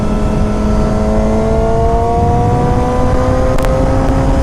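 A 2014 Yamaha R6 motorcycle engine accelerating, a loud, close, continuous high-revving whine with rising harmonic tones and steady wind roar throughout.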